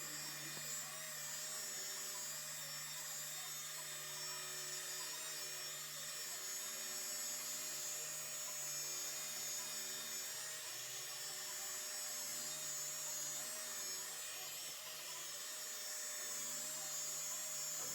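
A rotary polisher with a wool pad buffs car paint during a two-step paint correction, giving a steady, continuous high-pitched whirring drone that holds unbroken and fairly quiet throughout, with no talking.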